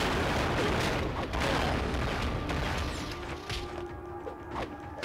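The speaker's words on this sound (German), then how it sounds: "Oh, Erdbeben wieder." A deep, loud earthquake rumble from the video game Justice League Heroes, with a steady roar and scattered crashing impacts that slowly ease off.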